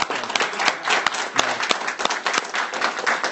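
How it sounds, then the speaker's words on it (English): Applause at a game developers' meetup: individual claps stand out sharply within a lively, uneven patter from a modest crowd, rising and dipping in bursts throughout. "One last round of applause, guys."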